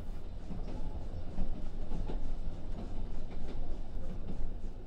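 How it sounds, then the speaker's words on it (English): Hogwarts Express steam train running on rails, a continuous rumbling roll with faint rhythmic clatter from the wheels, steady and fairly loud throughout with no talk. "As the train rounds a shallow corner, you look to the right out of your window"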